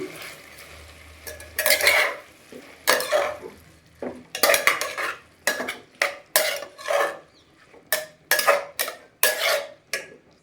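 Spinach and lentils being stirred together in a cooking pot for a vegetable lentil sambar, a spoon scraping and clattering against the pot in repeated, uneven bursts, close and fairly loud, with no talking.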